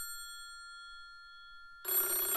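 Hotel room telephone ringing with a steady, sustained electronic tone, heard alone and fairly close, before a burst of louder noise cuts in at the end.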